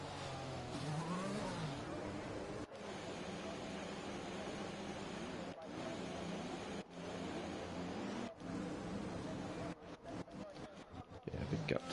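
F1 race cars idle and rev on the starting grid of the French Grand Prix in the video game F1 2021, a continuous engine drone with rising throttle blips broken by a few abrupt cuts.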